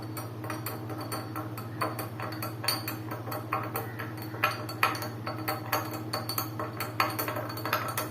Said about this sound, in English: Then stir well using the spoon.